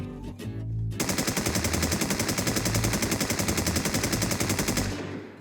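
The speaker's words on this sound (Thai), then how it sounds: "อันนี้ผมจะยิงแบบไม่คุมปืนเลยนะครับ" Sustained automatic fire from a SCAR rifle shot without recoil control in the online game Infestation, a rapid, evenly spaced stream of loud shots lasting about four seconds after a brief lead-in, then cutting off.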